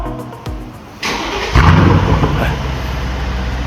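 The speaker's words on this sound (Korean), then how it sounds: "가변을 연 상태로 시동을 키니까 이 시동 걸리는 소리도 조금 방역 있게 뿌렁 하면서 걸리죠" A Mercedes-Benz S500 V8 with a custom valved exhaust, valve open, cranks briefly then fires with a loud, deep burst before settling into a steady rumbling idle, close and alone.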